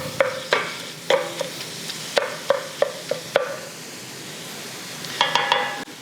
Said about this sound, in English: Gonna get this beef nice and chopped up.